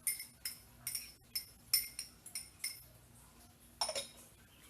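Metal utensils clink against a bowl as a fern salad is tossed with tomato and onion, making a quick, fairly regular run of light, bright taps that are close and quiet, with no talking.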